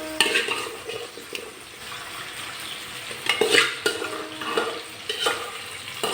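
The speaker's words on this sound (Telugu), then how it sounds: "ఇవి సన్నగా దోరగా వేయించుకోవాలి." Boiled prawns frying in hot oil in a pan, a close, continuous sizzle broken by scraping stirs and occasional clinks of utensil against the pan.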